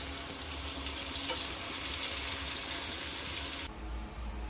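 Chicken curry ingredients frying in a pan, a loud continuous sizzle that holds steady and then softens slightly near the end, with no talking.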